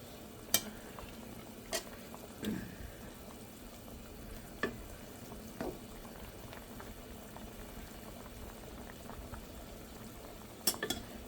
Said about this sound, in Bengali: এভাবে আস্তে আস্তে সব মাছগুলো দিয়ে দেবো